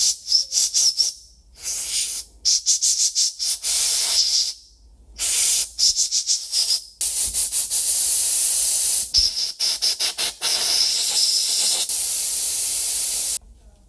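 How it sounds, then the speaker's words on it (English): Bursts of compressed air blow steel debris out of a freshly tapped carburetor thread, sharp loud hissing blasts repeating in an irregular rhythm with short silent gaps between them, close to the listener. "we'll blow out all the steel using compressed air"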